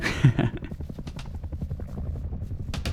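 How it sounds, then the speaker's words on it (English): Helicopter in the video game Rust chasing the player, its rotor chopping in a fast, loud, pulsing rhythm that continues throughout. "And this is when that helicopter started chasing me."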